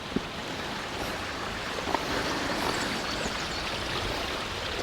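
Water falls steadily at a mountain waterfall near Sochi, a continuous broad rushing roar with no talk, holding level throughout with a couple of small knocks.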